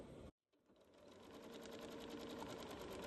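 A Janome MemoryCraft 7700 sewing machine runs a straight stitch at 2.5 length, starting after a brief pause and settling into a steady, close, rapid needle rhythm that holds alone to the end.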